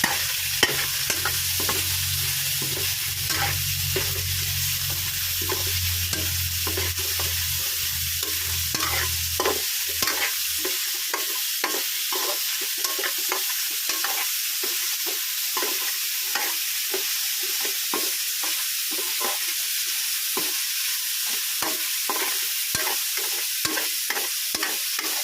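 Garlic sautés in a pan as a utensil stirs it, giving a steady bright sizzle broken by frequent scraping strokes. A low rumble underneath fades out about ten seconds in, and nobody speaks.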